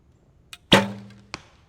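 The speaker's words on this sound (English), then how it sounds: "then I'll shoot the bare shafts" A bare-shaft Easton X10 arrow shot from a bow: a soft click of release, then a sharp, loud impact with a short ringing tail, and a second small crack a moment later in an otherwise quiet setting.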